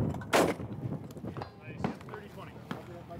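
A Stoeger M3020 20-gauge semi-automatic shotgun fires at a SHOT Show 2014 shooting range, with one loud sharp blast early on and fainter bangs later, while people talk nearby.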